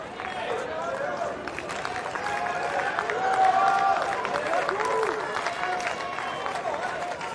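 A US Open tennis crowd reacts to a close point in a 2024 second-round match between Arthur Fils and Gabriel Diallo, a rising murmur and scattered applause under commentators' voices.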